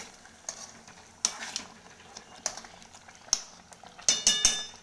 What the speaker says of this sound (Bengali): এবারে 1 চামচ ঘি আমি এখানে অ্যাড করে দিলাম, ভালো করে মিশিয়ে নেব